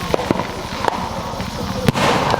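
Firework salute shells burst in a string of sharp cracks at mid distance, several distinct pops spaced irregularly across a few seconds during a Fourth of July backyard show.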